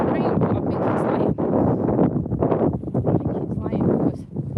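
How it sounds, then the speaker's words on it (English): Cold, gusty wind buffets an outdoor microphone on a dog walk, a loud, continuous roar that surges and dips throughout, with a person's voice mixed in. "Because it's bloody cold and windy."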